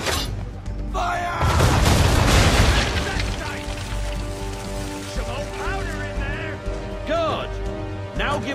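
Ship cannons fire a broadside in the video game Assassin's Creed 3, a heavy rolling boom that swells and then settles into debris-like crackle, with voices and a music bed underneath.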